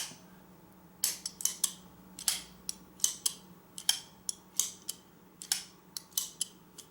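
A Kizer Azo Begleiter XL button lock flipper knife, not yet lubricated, snapping open again and again: a quick run of sharp, close metallic clicks in irregular bursts against a quiet room.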